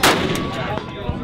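A single loud Paradigm SRP rifle shot at an outdoor range, a sharp close blast at the very start followed by a fading, rumbling tail.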